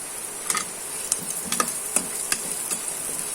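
Fenugreek and poppy seeds dry-roasting in a pan over a medium flame, with a faint continuous sizzle and scattered light ticks and clicks of seeds popping or being stirred, close and without speech.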